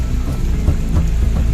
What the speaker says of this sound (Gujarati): વરસાદ બહુ આવવા લાગી ગયો છે એટલે